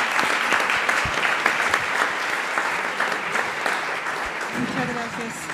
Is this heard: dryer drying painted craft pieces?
no